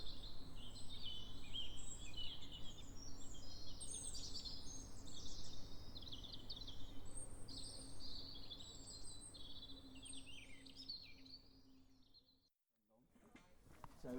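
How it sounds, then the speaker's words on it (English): Birds chirp and sing in a dense, overlapping chorus over a low steady hum, fading out near the end, during Cornish gig rowing. "Let's just have another listen to those birds."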